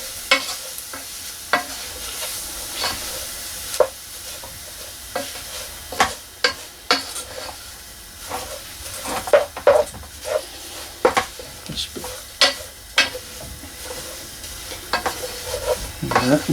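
Sawdust being stirred into melted paraffin wax to make a firelighter: repeated scraping and clacking strokes of a utensil against the pot over a soft sizzling bed, irregular and fairly close, with no talking.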